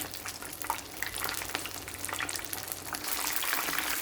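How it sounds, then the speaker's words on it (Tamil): Pieces of fish frying in oil over medium heat for homemade fish and chips, a steady dense crackling sizzle that runs throughout with no talking, loud and close, swelling slightly toward the end. "இப்போ பாருங்கள், ஃபிஷ் வந்து ஃப்ரை ஆகிட்டு"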